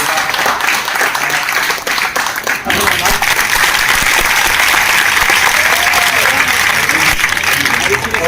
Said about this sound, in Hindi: इनके लिए आप तालियां।